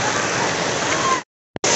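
Heavy rain pours down hard at a school, a steady dense wash that cuts off abruptly, leaving silence broken by one brief sound before the downpour returns.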